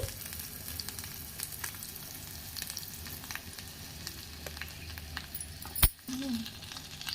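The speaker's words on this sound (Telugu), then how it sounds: "ఇప్పుడు ఫ్రై చేసుకుందామండి." Curry leaves, ginger garlic paste, turmeric and chili powder fry in hot oil with a steady soft sizzle, broken near the end by a sharp metallic clank and a brief stir.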